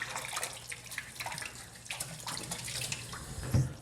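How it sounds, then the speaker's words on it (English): Tap water splashes and runs while glass bottles are rinsed for brewing water kefir, a close, continuous gurgling flow with small clinks and a brief louder knock near the end. "Rinse these bottles a little bit more."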